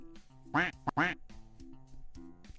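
A chat command in a racing video game sets off duck quacks, two loud, close quacks in quick succession near the middle, with fainter background game tones around them.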